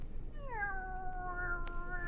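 A cat in an old-time radio drama gives one drawn-out meow that slides downward in pitch and then holds steady, clear and close, followed by a brief click, with no talking.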